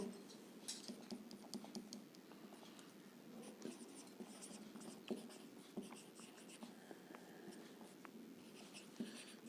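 A pen scratches across paper in short, quick strokes and taps, close and fairly quiet, with faint room noise around it.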